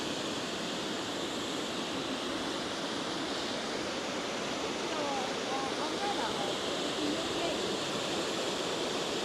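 Steady, broadband rush of diverted water flowing at Preston Mill fills the whole stretch, loud and continuous like a channel pouring through a mill race, with no breaks.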